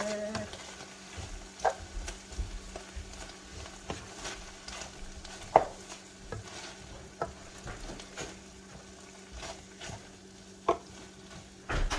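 Butter melting and sizzling in a frying pan with oil, stirred by a utensil that scrapes and taps the pan in irregular strokes over a steady low crackle, close and moderately loud.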